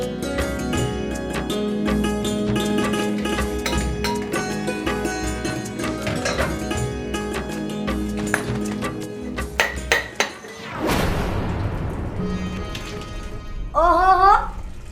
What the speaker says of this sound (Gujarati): તમે વાસણ ધોઈ રહ્યા છો?